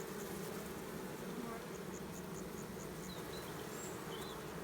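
A steady, dense buzzing of many honeybees entering a hive fills the clip, close and continuous, with a faint voice underneath.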